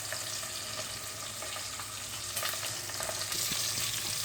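Cooking oil for pakbet fries in a pan with a continuous, even sizzle and crackle, heard up close and alone.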